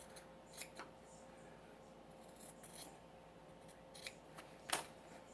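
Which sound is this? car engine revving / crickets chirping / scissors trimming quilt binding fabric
scissors trimming quilt binding fabric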